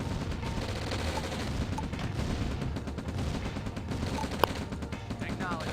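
Battle noise from the Command & Conquer Red Alert video game, with rapid gunfire and explosions rumbling continuously under game voice announcements, plus one sharper crack near the end.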